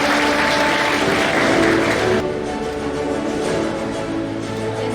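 An audience applauds at a business school graduation honours ceremony, continuous clapping that drops abruptly in intensity about halfway through and carries on more softly.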